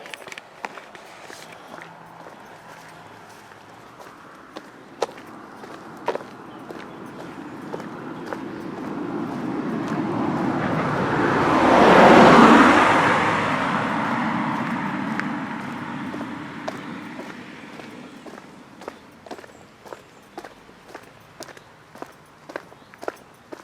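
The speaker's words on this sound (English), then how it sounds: "I can hear a car coming, so we will get on the pavement." A car approaches along a road in Winchelsea, its engine and tyre noise swelling to a peak and then fading, while footsteps tap steadily close by.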